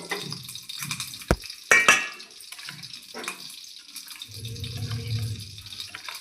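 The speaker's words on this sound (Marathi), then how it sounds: "गुळाचं पाणी करून घेऊया थोडं." Water is poured and swirled in a kitchen vessel to dissolve jaggery: scattered splashes and clinks, a sharp knock, then a steady pouring stream near the end, close and moderately loud with no talking.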